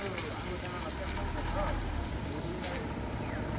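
A motorized local vehicle engine runs continuously with a steady low rumble and a rough, even drone, close by and fairly constant in level.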